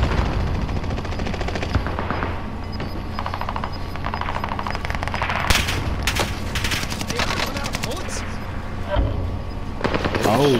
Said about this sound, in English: Mike's getting shot in front of me.